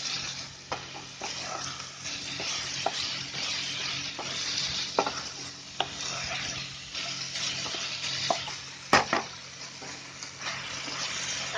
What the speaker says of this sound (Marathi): हलवतच राहायचं गॅस फास्ट करून